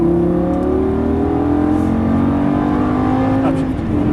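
A Lamborghini Gallardo LP550-2 at full throttle on a cone-marked course, its engine note climbing steadily in pitch, loud and close from the cabin with no break in the roar.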